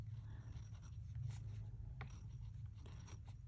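A fountain pen scratches softly across Tomoe River 68 paper, a faint, close, continuous writing sound over a low background hum.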